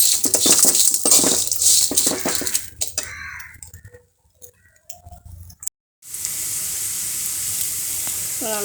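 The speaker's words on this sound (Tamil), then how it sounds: "அந்த பூ நல்லா அந்த வாசனை போகிற வரைக்கும் வறுத்துக்கலாம்" Neem flowers sizzle and crackle as they fry in a pan, loud at first with stirring scrapes, then falling almost silent before a steady hiss of frying returns.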